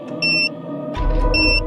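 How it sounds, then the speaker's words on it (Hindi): Bomb countdown timer hidden inside a bag gives off loud, high electronic beeps, two evenly spaced bursts close up over a low background hum, with no talking. "इसमें तो बॉम्ब है। हाँ, इसमें तो 15 मिनट का टाइमर लगा है।"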